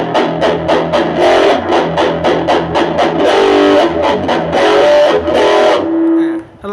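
Electric guitar played through a DEM Pedal Custom OD 809 boost and overdrive distortion pedal into a distorted amp, a run of loud, crunchy picked chords and notes with sustain, ending in a brief fade.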